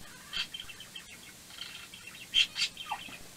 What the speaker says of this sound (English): That bird is just talking away.